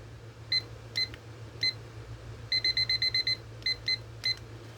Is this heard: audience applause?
no